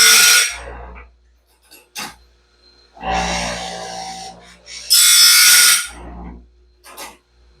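A standard grinding stone rasps against the teeth of a new Norwood Stellite bandsaw blade in loud bursts of harsh grinding separated by quiet pauses, with a few brief clicks in between.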